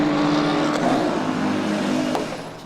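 A 2016 Porsche endurance race car at the 6 Hours of Silverstone comes into the pits for a driver change, a loud close engine drone with a high tonal whine that fades slightly as it slows.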